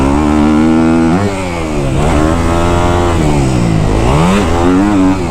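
A Kawasaki KX250F dirt bike engine revs loud and close during riding, its pitch rising and falling in repeated throttle sweeps over a few seconds with no talk.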